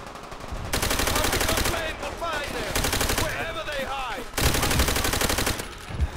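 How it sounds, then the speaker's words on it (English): Gunfire from a World at War Call of Duty match, including a noob tube grenade launcher, plays as dense continuous game shooting with sharp bursts, loud and close, with a steady game soundscape and no voices. "Oh, and of course he shoots a noob tube."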